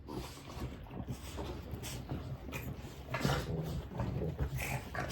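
Several Boston terriers snort and snuffle close by indoors, an irregular run of wet nasal huffs with small whimpers and grumbles throughout.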